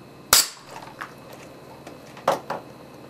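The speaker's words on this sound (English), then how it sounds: "Let's try the air cannon and fire." An air cannon fires to break a light bulb underwater: one sharp loud pop, then a second smaller burst about two seconds later, over a quiet hiss.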